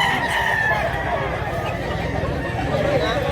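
A Hatch gamecock in Cebu crows amid a busy yard, its call rising over steady background chatter and other fowl clucking; people talk nearby throughout.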